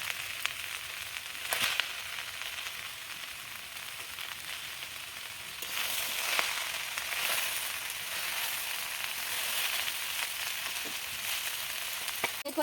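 Mixed vegetables for a Bengali vegetarian chorchori fry in a pan, a soft, continuous sizzle that swells louder midway, with a few stirring clatters and no voices.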